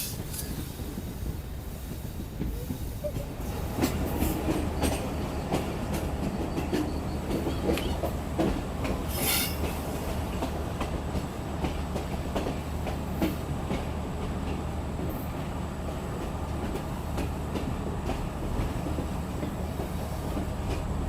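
A Green Line passenger train at platform 2 of Rohri Junction in Pakistan, heard as a steady, loud rumble of railcars with rolling wheel clatter and occasional faint squeals, continuing throughout.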